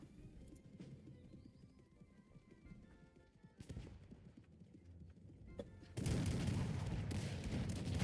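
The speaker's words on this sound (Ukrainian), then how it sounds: "В цей час я бачу, що забігають коні." Horses gallop in the real-time strategy game Cossacks 3, a continuous rumble of hoofbeats under battle noise, with a sudden louder, denser surge of trampling and clatter in the final seconds.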